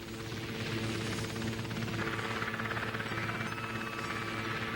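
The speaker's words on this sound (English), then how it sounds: "The little chopper flew low, following trails, flying fast over likely enemy positions" An OH-6 Cayuse helicopter's rotor drones continuously with a steady throbbing chop, fairly loud and constant throughout, flying low and fast.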